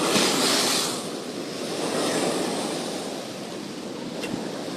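Big ocean waves crash and wash along a shore on a fishing outing, a steady broad roar with wind buffeting the microphone.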